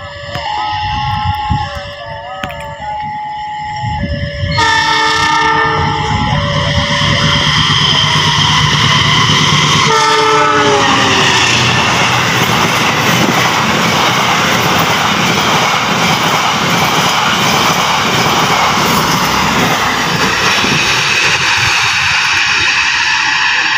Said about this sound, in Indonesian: Persiapan kereta api 97 Sancakasuri melintas langsung stasiun tarik menyusul kereta api Jenggala ya.